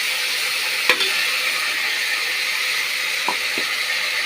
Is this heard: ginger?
yes